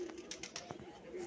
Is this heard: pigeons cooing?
yes